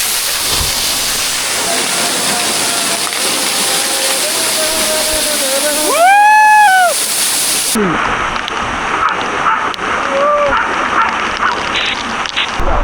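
Sonara waterfall at Shahapur, Maharashtra, pouring close by as a loud, continuous roaring rush of water, with people talking over it and a few whistle-like tones rising briefly.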